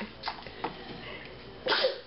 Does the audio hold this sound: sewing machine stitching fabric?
no